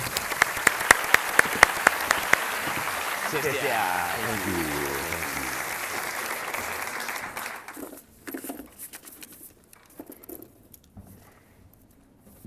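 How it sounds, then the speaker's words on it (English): An audience at a university electrical engineering lecture in Taiwan gives a guest speaker a warm round of applause. Loud, dense clapping lasts about eight seconds, then fades to scattered claps as the speaker begins talking. "So let's welcome him with a big round of applause."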